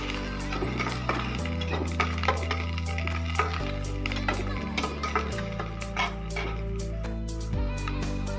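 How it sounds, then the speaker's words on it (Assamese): Onion pieces fry steadily in hot oil for a drumstick curry, a dense close crackling sizzle with frequent sharp ticks and spatula scrapes throughout, over a low steady hum. "পিঁয়াজখিনি ভাজি ল'ম অকণমান"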